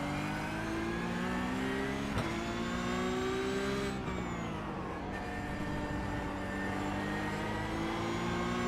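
Porsche GT3 car in iRacing, engine revving hard through gearbox shifts, pitch climbing then dropping sharply at each change, loud and continuous with no speech.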